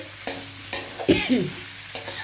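Boiled vegetables and masala are stir-fried together in a pan for a Bengali potato-cauliflower dish: a soft sizzle under several sharp spatula scrapes and knocks, close by, without talk.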